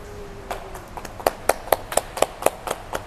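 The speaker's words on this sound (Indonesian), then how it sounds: "Tepuk tangan ya." A small group clapping at an Indonesian talk session, starting a little ragged and then settling into sharp, rhythmic, evenly spaced claps, fairly close and moderately loud.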